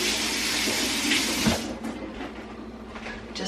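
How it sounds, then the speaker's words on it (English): Tap water running steadily into a kitchen sink while hands are washed during pork schnitzel prep, a broad continuous hiss that thins out after a second or two, close and alone with no talking. "Let me wash my hands for a second here."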